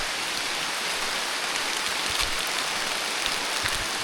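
Heavy rain pours steadily in a deep forest, a dense continuous hiss of drops with occasional low patters, close and even throughout, no voices.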